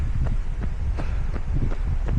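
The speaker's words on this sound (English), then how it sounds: "It's so windy." Low, blustery wind rumble buffets the microphone, punctuated by regular thudding steps, like someone running outdoors.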